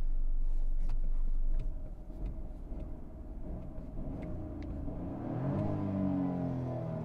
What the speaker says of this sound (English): Let me just rev it a little bit.